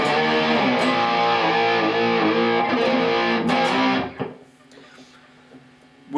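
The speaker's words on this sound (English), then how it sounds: "With some distortion, it sounds nice." A Strandberg Boden Standard refurbished electric guitar runs through a distortion pedal, with sustained chords played for about four seconds that then cut off and leave a low ringing tail and faint amp hum.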